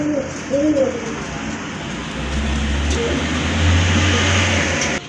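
Soft cooing of a pair of large pigeons close by, a few low calls over steady background hum and rumble.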